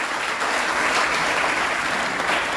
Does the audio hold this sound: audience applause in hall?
yes